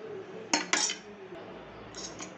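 Uncooked rice tipped into a pot of veg pulao and stirred with a metal spoon, giving two sharp scraping clinks early on and softer scrapes near the end over a steady background hum.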